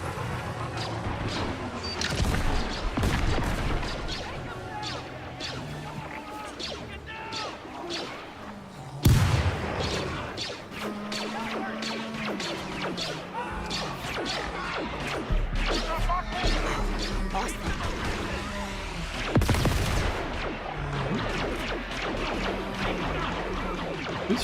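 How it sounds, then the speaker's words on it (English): Gunfire in a Star Wars Outlaws game battle, with repeated sharp blaster and gun shots in irregular bursts, some close and loud, over a busy bed of crashes and engine-like rumble, with voices talking intermittently. "Who's shooting at who here?"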